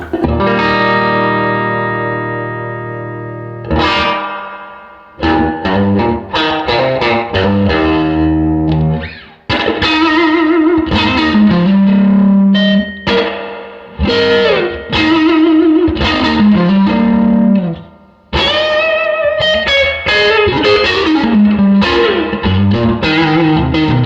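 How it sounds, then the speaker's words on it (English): An electric guitar strums chords through a tube amp with its vibrato effect, a pulsing wobble, some chords left to ring and others played in choppy bursts with brief gaps. "this is just naked amp just with the vibrato"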